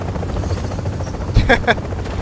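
A helicopter's steady rotor drone runs through a cargo extraction in The Division video game, loud and continuous, with a couple of brief sharp bursts near the middle and a voice over the top.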